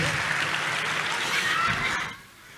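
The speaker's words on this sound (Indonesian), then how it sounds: "Tepuk tangan dulu yang paling meriah buat Tuhan." Congregation applauding at a youth revival service in a church, a dense burst of clapping that holds steady for about two seconds then cuts off abruptly, leaving quiet room tone.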